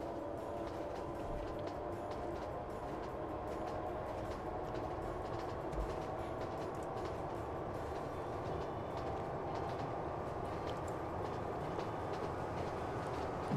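Trains in the railway-building game Train Fever rumble along the track in a steady, continuous low roll with faint rhythmic rail noise, unbroken for the whole stretch and with no one talking.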